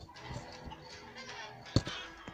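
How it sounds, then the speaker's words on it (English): Chickens cluck and squawk in the Minecraft Story Mode video game, brief, fairly quiet fowl calls over a busy game soundscape, with one sharper burst near the end. "Out of my way, chickens."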